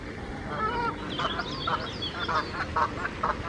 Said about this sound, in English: the old barnacle goose having a stroll around this morning